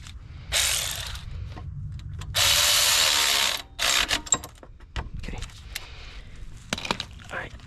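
Hand-tightening 12mm bolts on a Lexus SC430 alternator, heard as close ratchet clicking and metallic tool noises in several bursts separated by short pauses.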